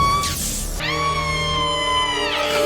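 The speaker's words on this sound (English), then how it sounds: "Johnny has like the funniest scream ever" Cartoon character Johnny, the Human Torch of Fantastic Four: World's Greatest Heroes, lets out a comical, sustained high-pitched scream after a brief shout, loud and strained, rising and holding before cutting off.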